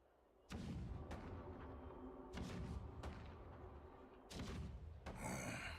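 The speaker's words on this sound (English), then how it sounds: "The rumble of the cannons." Deep cannon booms in a video game roll in one after another, several heavy thuds with long rumbling tails echoing over a dark battlefield ambience.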